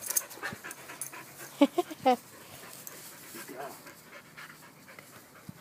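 A dog pants in quick, rhythmic breaths close by, with a few brief whimpers and soft sounds from someone nearby.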